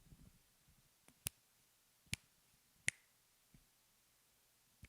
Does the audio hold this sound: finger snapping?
yes